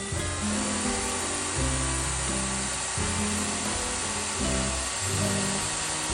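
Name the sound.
power drill drilling holes in metal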